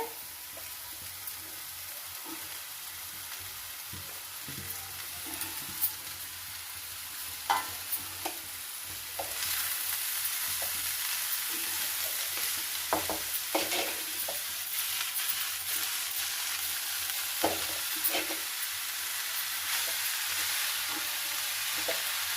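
Boiled cabbage curry, already tinted with turmeric, being stirred in a pan with a soft, steady sizzle and scattered scraping clicks from the spoon, moderately close, with no talking.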